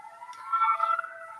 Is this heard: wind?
no